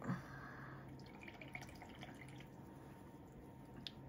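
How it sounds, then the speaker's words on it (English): Paintbrush rinsed in a water container while painting with watercolors, soft sloshing and a few faint drips and splashes close by, quiet throughout. "Rinse my brush really well"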